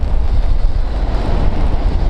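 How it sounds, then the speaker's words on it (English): Steady, heavy wind buffets the microphone on a rainy beach, a constant low roar with no other sounds standing out. "It's a little bit windy."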